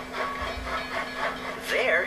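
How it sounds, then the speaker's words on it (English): Steam engine puffing effect in a toddler train app: rhythmic chuffs repeating about twice a second over a steady low hum, with a brief voice-like sound near the end. "Here is a steam engine puffing smoke."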